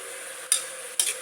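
Mushrooms frying with curd for mushroom biryani give a soft steady sizzle, broken by two quick stirring scrapes in the pan.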